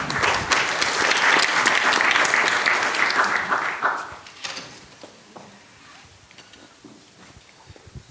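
An audience at a lecture applauding a speaker, dense and loud clapping that fades out after about four seconds into quiet room noise with faint shuffling.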